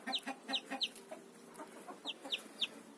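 Chickens in a summer farmyard in Kuban give repeated short, clear clucks in quick bursts, with several birds calling near the listener over quiet background chatter from the flock.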